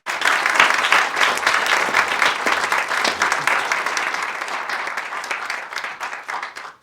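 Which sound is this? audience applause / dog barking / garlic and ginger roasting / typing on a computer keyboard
audience applause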